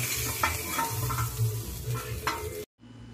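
Pork pieces for humba frying in a pan, with a crackling sizzle, occasional scraping and light utensil clinks; the sound cuts out briefly near the end before the hiss returns.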